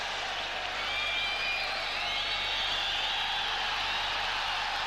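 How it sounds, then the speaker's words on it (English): A football stadium crowd at a 1991 Copa América match between Brazil and Bolivia roars during a Mexican wave, a broad, sustained wash of cheering and whistling from a distance, steady throughout. "Crowd getting hugely excited about something here. I assume it's the Mexican wave."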